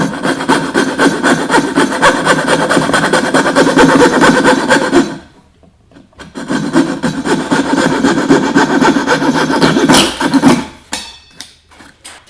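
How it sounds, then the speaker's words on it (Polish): Hand saw roughly cutting dovetail pins in wood at a workbench, loud steady rasping strokes for several seconds, a brief pause, then another run of sawing that ends in a few short strokes. "piłka w rękę, z grubszego wycinamy"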